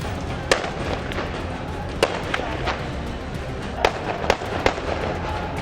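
Police firing shots into the air to disperse protesters in Karachi's Qayyumabad area, heard as about seven or eight sharp distant cracks scattered irregularly over steady crowd and street noise.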